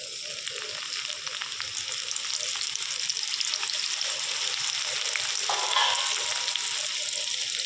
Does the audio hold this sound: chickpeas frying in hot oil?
yes